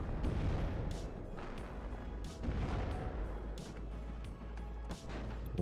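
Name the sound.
artillery fire in video game WARNO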